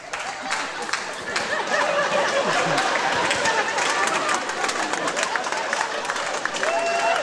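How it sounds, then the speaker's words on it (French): Audience applause at a comedy festival show, with dense clapping mixed with crowd chatter and some laughter, steady and fairly loud throughout. "Applaudissez très fort."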